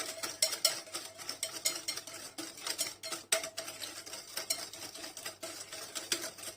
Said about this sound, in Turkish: şu rengi alana kadar şekerle yumurtayı iyice karıştıralım